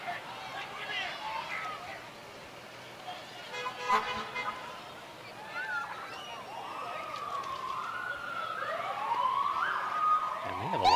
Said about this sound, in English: Now we have the Wabasha ambulance coming.